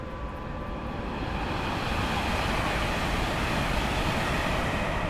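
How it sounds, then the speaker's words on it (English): Train passing in Train Sim World 6 on a London to Crewe railtour, a dense broadband rumble and roar building slightly and holding steady at close range throughout, with no talk. "there's a train coming"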